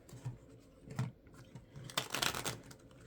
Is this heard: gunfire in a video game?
no